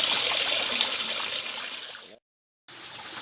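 Water runs steadily through an aquaponics system into a pump, a continuous close broadband rush of flow that cuts out briefly and then resumes.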